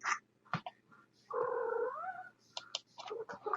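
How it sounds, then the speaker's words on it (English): A house cat gives a long, loud, complaining meow close by, surrounded by quieter clicks and small knocks, with no talking. "this stupid cat"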